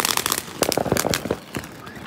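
Fourth of July backyard fireworks bursting in quick succession, a dense run of sharp crackling pops and bangs lasting about two seconds, fairly close and loud with no talk.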